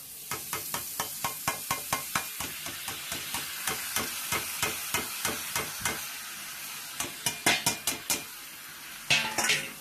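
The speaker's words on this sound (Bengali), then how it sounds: "হলুদটা একটু নেড়ে নিচ্ছি" A utensil stirs turmeric in a pot of ghee while making yellow pulao, scraping in a fast, even rhythm of close, sharp clinks and scrapes that continues for several seconds over a faint sizzle.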